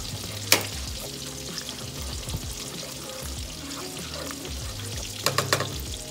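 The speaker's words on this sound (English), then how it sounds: "with heavy cream, you gotta keep whisking it till it get like a little thick" Heavy cream sauce bubbles and sizzles in a hot pan during whisking, a steady low simmer with scattered clinks and scrapes, including a sharp tap near the start and a few more toward the end.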